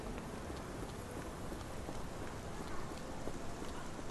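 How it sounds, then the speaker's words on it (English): Steady, dreary rain falls in the Sherlock Holmes The Awakened video game, a dense even hiss of drops that holds constant throughout with no talking. "This dreary rain"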